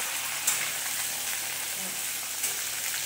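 Red amaranth stems (lal data chorchori) cooking in a pan with five-spice panch phoron tempering give a steady, faint sizzling hiss, with a couple of small clicks over it.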